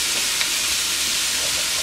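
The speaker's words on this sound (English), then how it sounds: "I'm gonna stir that and let it cook for about 2 to 3 minutes so it can soften a little bit" Chopped carrots, onion and celery sizzle steadily in a soup pot over medium-high heat, a close, continuous frying hiss with faint stirring movement and no pauses.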